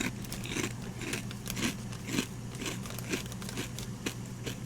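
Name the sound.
eating crunchy salt and vinegar Mac's pork rinds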